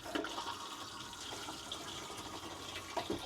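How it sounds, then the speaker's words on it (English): A Thetford cassette toilet flushes inside a Promaster van conversion bathroom with a shower, giving a steady rushing, swirling water sound of moderate loudness that runs for the full few seconds, close by and without any talk. "This is a Thetford cassette toilet. It faces this way, which is nice in this shower. And then you just hit the blue button to flush."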